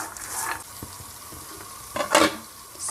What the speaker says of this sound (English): I'm adding approximately 1/4 tablespoon of mustard seed. Keep stirring it.